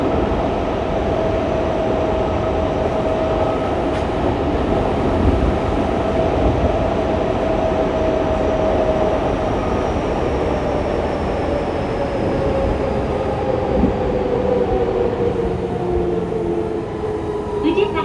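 A Fukuoka City Subway 2000 series train with Hitachi late-type GTO-VVVF traction equipment and an unusual running noise rolls steadily underground, a loud continuous interior drone with a rising and falling motor whine throughout.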